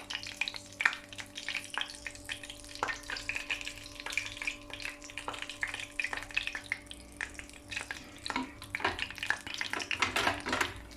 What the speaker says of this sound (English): I like them nicely crispy, so I'm going to fry them a little bit more crispier.